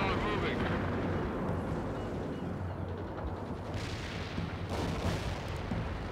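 Precision artillery strike explosions in the strategy game World in Conflict, a dense rumbling barrage of distant blasts with two sharper bursts later, heard under players' voice chat.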